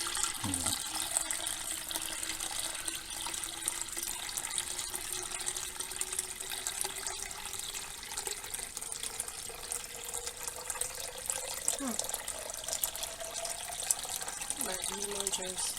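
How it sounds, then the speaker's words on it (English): Liquid is poured off settled wood ashes through a china cap strainer, making a steady, faint trickling and splashing that runs under a person talking. "I'm just going to try to pour off the liquid portion so that the solid ashes remain on the bottom."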